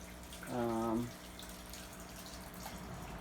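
Liquid from a sauce, with herbs and milk solids, is poured from a Revere Ware pan into a kitchen strainer. It makes one short, resonant gurgling pour lasting about half a second before the room goes quiet again.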